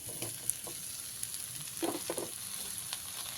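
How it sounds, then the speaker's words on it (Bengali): Fried pumpkin is stirred into spice paste in a hot pan for Bengali kumror chokka, with a soft steady sizzle and a few light scraping stirs, close and fairly quiet. "এবারে এর মধ্যে ভেজে রাখা কুমড়োটা দিয়ে দিলাম"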